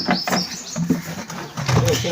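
Sparrows chirp and twitter in quick, high bursts nearby, with a bit of talking mixed in, in a village in Punjab.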